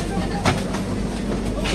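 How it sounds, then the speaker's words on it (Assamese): A train arriving at a station rumbles and clatters nearby with steady mechanical noise and a few sharp knocks, while voices can be heard faintly underneath. "ট্ৰেন আহি গ'ল।"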